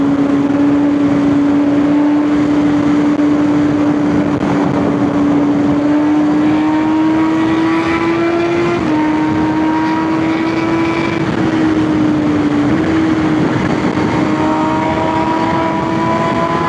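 A Kawasaki Z H2 supercharged naked motorcycle accelerates hard. Its engine holds a loud, steady, continuous drone that climbs slowly in pitch and runs throughout, with no talk.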